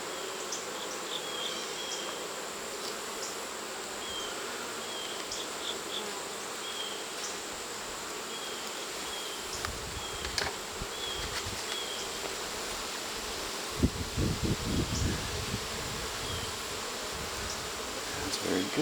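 Honey bees buzz around an open hive during fall hive work outdoors, a soft continuous insect hum with faint rustling and a few handling bumps.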